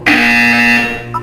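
A loud electronic buzzer from the video game Portal 2 sounds once, a sustained harsh tone lasting about a second before it cuts off, close and clear with no talking.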